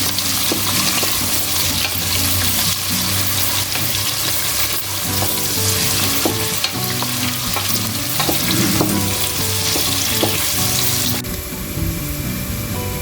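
Onions fry in a pan until golden for a Madras-style chicken biryani, giving a steady, loud, close sizzle with occasional stirring scrapes throughout.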